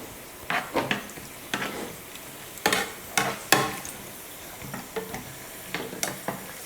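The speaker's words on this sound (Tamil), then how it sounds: "உலர் திராட்சை சேர்த்துட்டு இதையும் நல்லா வறுத்துக்கலாம்" Raisins roasting in a pan for sweet pongal: soft sizzling underneath a string of irregular scraping and stirring strokes close by, with no voices.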